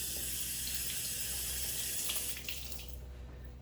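Water runs steadily from a tap, wetting a headlight before wet sanding with 3M 3000 grit paper, a constant moderate hiss that thins out toward the end, with no voices.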